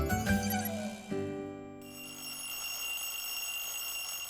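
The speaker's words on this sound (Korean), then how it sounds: "스케줄이 많을 땐 알람을 맞춰놓고 끼니를 챙긴다는 그." A bright electronic alarm clock rings out in quick repeated tonal beeps, then settles into a sustained ringing tone that carries on loud and clear, with no talking over it.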